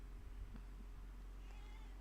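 A house cat meowing in a room, one short call followed by a higher drawn-out meow, faint and close, over a low steady electrical hum.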